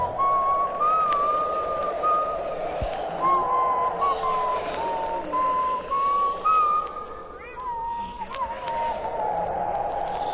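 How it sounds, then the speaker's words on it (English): A man whistles a meandering, wavering tune to himself, steady and fairly close, with soft background sound under the melody. "Ichabod began to whistle to himself"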